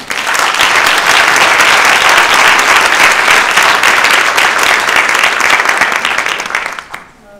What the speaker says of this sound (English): An applause for Kate.